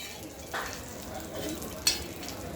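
Spiced peanuts being stirred and sautéed in a pan over a low flame, with a soft, steady sizzle and a few scraping stir strokes standing out.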